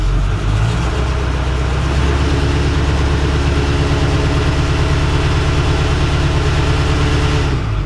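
A Ford COE truck engine with a newly installed 4-inch exhaust holds a steady 1,000 RPM, recorded from inside the cab: a loud, continuous low rumble with an even throb and no voices.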